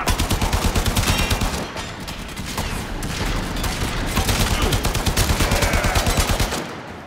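Gunfire and grenades in the video game Warframe: loud, rapid automatic bursts in rhythmic volleys with brief pauses and scattered explosive thuds, continuing almost without letup.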